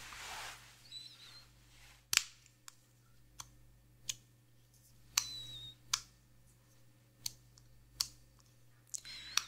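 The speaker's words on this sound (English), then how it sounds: "it is a clicking sound" Click of a flashlight switch during an ASMR hearing test, about ten sharp, close, isolated clicks at irregular intervals over a quiet background.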